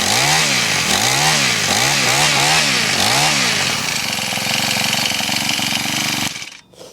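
A Honda FG110 tiller engine runs loud and close, its small single-cylinder drone rising and falling in rhythmic surges before settling into a steady idle, then cutting off abruptly near the end.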